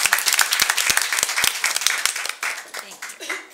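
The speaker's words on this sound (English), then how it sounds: "give her a round of applause" Audience applause for the principal of the year at a school board meeting, a lively burst of many hands clapping close by that thins out toward the end.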